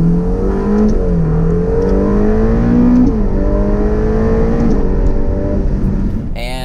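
A Ferrari Portofino M drives on winding Italian roads, its engine droning loudly and steadily from inside the car, with pitch rising and dipping through gear changes.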